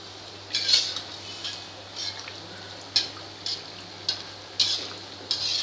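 Sweet gulgule fritters fry in oil over a medium flame, a soft constant sizzle punctuated by several light clinks and scrapes of a utensil against the pan.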